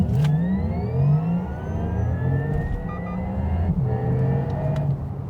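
A Porsche Taycan 4S Cross Turismo electric car accelerating hard, giving a loud, close whirring drive whine that climbs steadily in pitch with road and wind roar underneath, and no speech.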